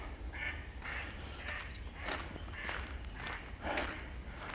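A duck quacks several times in short, scattered calls at middle distance outdoors, with faint rustling and footsteps in the background and no talking.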